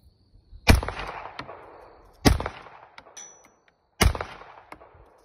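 Three sharp single shots from a custom-built B-45 gun during a test fire, each a loud close crack with a ringing metallic tail, spaced about one and a half seconds apart.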